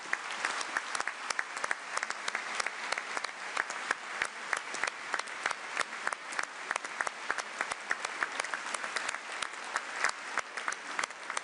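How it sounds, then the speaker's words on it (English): Steady, dense applause from a large audience at an EU leaders' industry meeting in Antwerp, honouring workers in their work gear. Crisp claps pour out continuously and evenly for over eleven seconds, with no talk. "And give them a round of applause."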